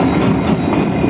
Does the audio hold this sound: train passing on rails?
yes